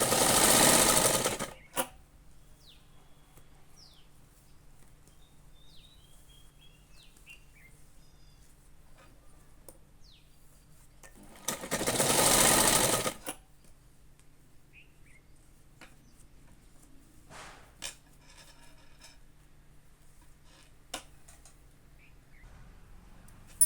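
Two loud bursts of a sewing machine stitching a blouse sleeve with a small puff, each running about two seconds and separated by a long quiet stretch with faint ticks and light chirps in the background.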